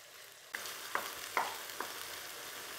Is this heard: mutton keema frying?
yes